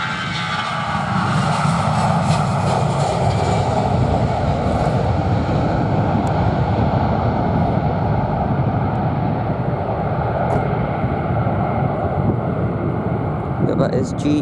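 An easyJet airliner at London Luton, bound for Belfast on a windy afternoon, roars steadily through the whole stretch, a loud sustained jet engine rumble mixed with wind buffeting the microphone.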